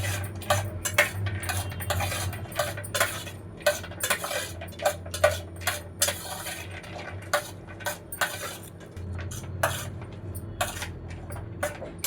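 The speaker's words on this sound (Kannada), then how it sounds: "ಈ ರೀತಿ ಹಾಕಿ ಸ್ಪೂನಲ್ಲೇ ಪೂರ್ತಿಯಾಗಿ ಕಲಸಿದ್ರೆ ಸಾಕಾಗುತ್ತೆ" A spoon stirs peanuts coated in green chilli masala in a bowl for an oil-free masala peanut snack, making repeated crisp clinks and scrapes in an uneven rhythm. Close and clear, with no speech.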